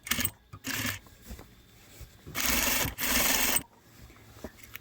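A domestic sewing machine stitches a straight seam along a fabric bed skirt in bursts: two short runs early, then two longer sustained whirring runs, separated by quieter handling and rustling of cloth.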